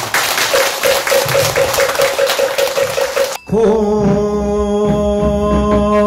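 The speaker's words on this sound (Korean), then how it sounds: "큰 박수 한번 보내주세요" A crowd applauding at a Korean Buddhist memorial ceremony, sustained loud clapping that cuts off abruptly and gives way to sustained tonal chanting or music.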